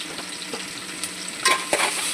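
Chopped onion with salt frying in oil in a pan for a home lunch, a steady close sizzle broken by a few scraping stirs of a spoon against the pan.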